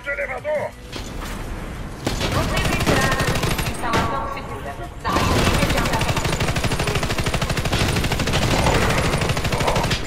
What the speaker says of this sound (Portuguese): Cara, ele tá atirando só nos bots